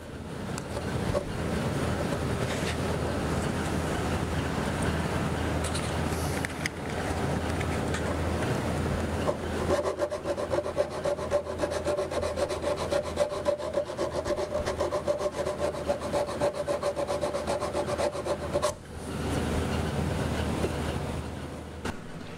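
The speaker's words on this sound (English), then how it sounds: "I grabbed an RO sander after hand sanding the first leg" Continuous abrasive sanding on a wooden furniture leg with a random orbital sander, a steady gritty whir that briefly pauses and resumes, with a faint humming tone in the middle stretch.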